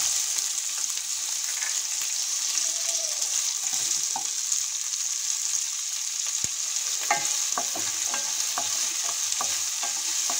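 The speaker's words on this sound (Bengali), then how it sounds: "পেঁয়াজ কুচিগুলো একটু ভেজে নেব নরম না হওয়া পর্যন্ত।" Chopped onion frying in a pan after ginger for a potato dish, giving a steady close hiss of sizzle throughout with clacks and scrapes of stirring growing busier toward the end.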